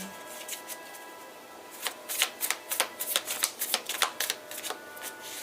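Cards are shuffled by hand in a run of quick, crisp slaps and flicks, faint at first, then a rapid rhythmic series of close snaps.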